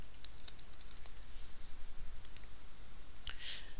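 Light clicks and taps of typing on a computer keyboard, scattered irregular keystrokes close up with no talking, in a quiet room.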